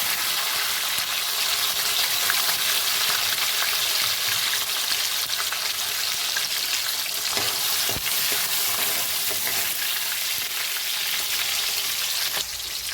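Tomatoes go into a mustard-seed tempering, giving a steady close sizzle with light crackles and a few sharp clatters of a utensil, with no talking.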